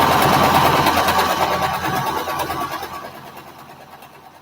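A temperamental learner sewing machine stitches a flower quilt block, with a loud, fast, steady mechanical whir close by that slows and fades over the last couple of seconds.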